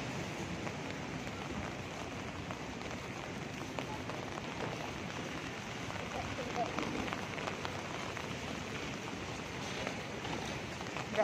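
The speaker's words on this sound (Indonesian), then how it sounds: "hari ini hujan deras" Heavy rain pours down in Hong Kong as a dense, steady hiss of drops on surfaces, even and unbroken for the whole stretch.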